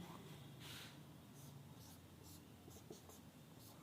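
Chalk or marker scratching on a board while writing out a chemical product formula in a lecture, with several short strokes in quick succession, fairly faint over a quiet room hiss.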